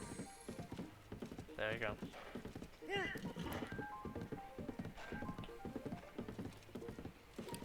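A horse in The Legend of Zelda: Tears of the Kingdom trots along with steady, close clip-clopping hooves and an occasional snort or whinny, while someone talks over it.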